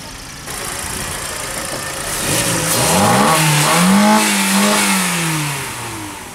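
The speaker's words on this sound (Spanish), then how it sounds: "Suena bien bueno Sí, el filtro suena muy bonito." A used car's engine fitted with a K&N air intake filter revs up from a steady idle, climbing and falling in pitch through several loud throttle blips, heard close with no talking.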